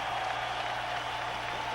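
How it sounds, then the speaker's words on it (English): A boxing arena crowd applauds heavyweights George Foreman and Alex Stewart in the ring, a steady, dense wash of clapping that holds evenly throughout without a break. "how about a round of applause for these 2 heavyweights in the ring here tonight"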